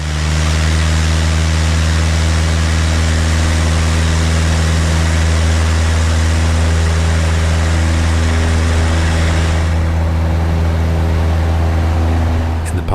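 Piper PA-18 Super Cub taxiing, its light-aircraft engine and propeller holding a steady loud drone with strong low harmonics throughout, the high hiss dropping away near the end.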